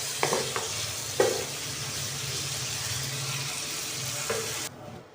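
Chicken dry-roasting in a pan over a medium flame for chicken tikka pizza, a constant soft sizzle with a few sharp stirring scrapes, cutting off abruptly near the end.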